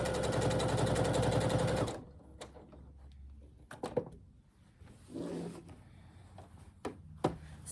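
A sewing machine stitches around the exterior of a fabric bag, a loud rapid steady whir for about two seconds that stops abruptly, followed by quieter handling clicks and rustles.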